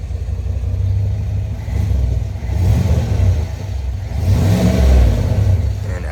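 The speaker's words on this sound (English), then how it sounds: "the stock exhaust." A 2022 Chevrolet Silverado ZR2 truck engine idles through its stock exhaust with a deep, steady rumble, swelling with a few revs and settling back down.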